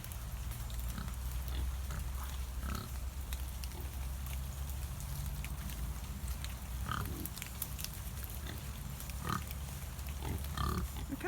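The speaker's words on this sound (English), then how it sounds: "All the pigs here having their breakfast." Farmyard pigs grunt and snuffle while eating their breakfast, a steady low murmur of feeding noises with occasional louder grunts against constant outdoor background noise.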